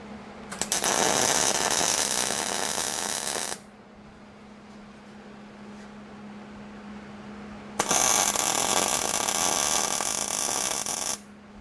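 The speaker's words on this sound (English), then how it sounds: "So let's do some welding." Welding a nut onto a washer inside metal tubing, two loud crackling arc bursts of about three seconds each, separated by a quiet pause with a faint steady hum.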